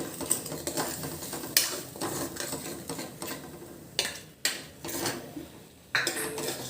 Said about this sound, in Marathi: काजूची पेस्ट टाकूया। ती आपण छान परतून घेऊ।